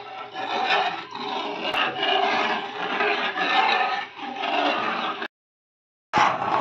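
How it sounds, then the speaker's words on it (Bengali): A utensil scrapes and rubs steadily as milk is stirred in a pan over a high flame for misti doi, with a continuous rasping swish and rhythmic swells, ending in a brief silence and a short resumption. "আমি এটা কন্টিনিউ নাড়তে থাকবো যাতে না নিচে ধরে যায়"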